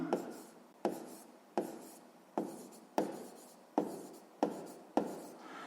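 Ballpoint pen writing on paper during a sixth-grade maths exercise, eight quiet scratchy strokes repeating at a steady rhythm roughly every 0.7 seconds, each starting sharply and trailing off, close and alone with no talking.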